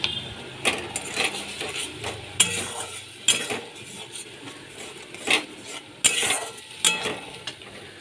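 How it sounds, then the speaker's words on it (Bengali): Tomato, onion and ginger-garlic paste sautéed in a pan for an egg dish, with a utensil giving repeated scraping, stirring strokes at an uneven rhythm over a soft, low sizzle. "ভালো করে আমি কষিয়ে নেব"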